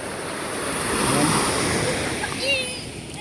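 Sea waves wash onto a beach under overcast skies on a very calm day, a steady soft surf hiss with a gentle swell in the middle and a brief higher whistling tone near the end.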